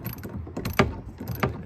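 A wrench works a bolt and nut loose on a Mad River canoe, giving a short run of metallic ratcheting clicks with a couple of sharper, louder clanks, close and fairly quiet with no talking.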